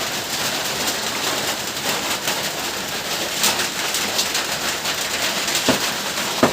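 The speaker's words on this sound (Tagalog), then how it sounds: "lalong lumalakas yung ulan kasi para hindi makabaha ng maigi." Steady rain pours down across the whole stretch during flooding in Mindanao, a dense hiss of drops on surfaces with no voices.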